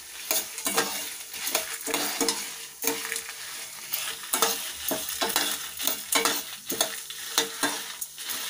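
Ingredients for a homemade health powder are dry-fried and stirred in a pan, giving a rhythmic run of scraping strokes over a soft sizzle, close and moderately quiet, with no talking.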